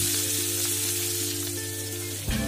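Chopped onion frying in hot mustard oil with whole garam masala, a steady close sizzle running throughout with a brief clatter near the end, no voices.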